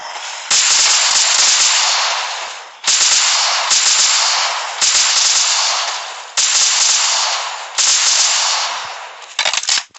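Gunfire in the video game Survival Z, loud sustained bursts of automatic shots in five or six long volleys separated by brief pauses, with a short choppy burst at the end.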